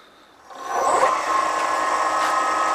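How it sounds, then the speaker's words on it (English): A gouge cuts into a square wooden bowl spinning on a lathe, starting with a quiet hum then a loud, steady scraping hiss of the tool shaving wood, close and continuous. "Use the long edge of the gouge again, and I'm going to just take a little bit out of that center part there."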